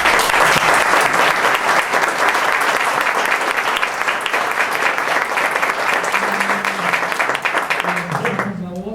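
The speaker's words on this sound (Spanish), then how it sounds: "Recibamos con un aplauso a nuestro conferencista." A lecture audience applauds to welcome a speaker, sustained dense clapping that fills the room and stays loud, with a voice briefly emerging near the end as it fades.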